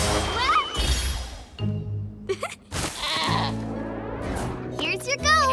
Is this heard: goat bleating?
yes